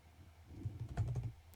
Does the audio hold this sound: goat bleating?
no